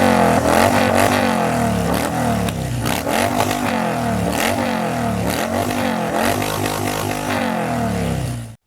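A motorcycle engine revs as an intro sound effect, loud and close, with repeated throttle blips rising and falling in a rhythmic pattern over a steady idle rumble, heard alone.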